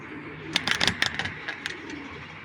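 Big-bodied grizzle racing pigeons from a loft give a short burst of soft, close coos and throaty calls, over a quiet background.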